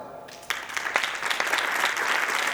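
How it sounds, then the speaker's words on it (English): An audience at a regional youth training camp in Pune breaks into clapping, starting suddenly and continuing as a dense, steady wash of applause. "And I think you deserve a clap for that."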